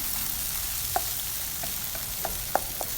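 Eggs being stirred and scraped in a sizzling frying pan, a steady soft fry with a few light clicks of the utensil against the pan, close and alone with no talking.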